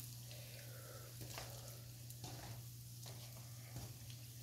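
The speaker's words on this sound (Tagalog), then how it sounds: "I-double fry natin yan siya, guys." Food double-frying in hot oil, a faint continuous bubbling sizzle with a low steady hum beneath and occasional soft clicks or scrapes.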